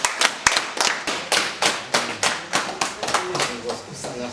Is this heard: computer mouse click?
no